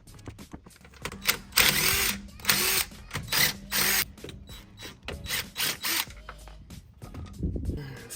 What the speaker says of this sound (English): Try to break the nuts loose first.